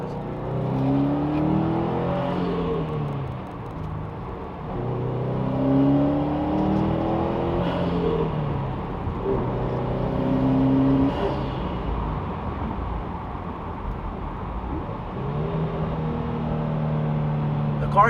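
A Subaru WRX STI engine with a new cold air intake revs repeatedly, rising and falling in pitch through several long pulls, loud and close with a rough, throaty tone.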